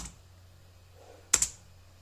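Brief burst of a couple of quick keystrokes on a computer keyboard, close and fairly soft, after a stretch of near silence with a faint low hum.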